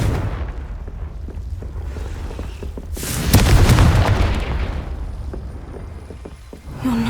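A Confringo spell explosion in the Hogwarts Legacy video game sets off a single loud, sharp boom midway, followed by a rumbling roar that slowly fades, with quieter ambient game sounds before it.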